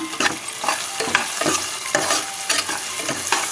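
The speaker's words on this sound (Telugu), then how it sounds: "ఉల్లిగడ్డలు ఇంకా వేగాలి" Chopped onions fry loudly in a pan for a tripe (boti) curry, a steady sizzle broken by repeated scraping stir strokes about every half second, close up with no voices.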